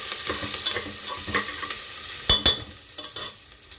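Garlic frying in a pan as it is stirred, a bright steady sizzle with a few louder scraping clatters of the spoon near the end, close and without speech.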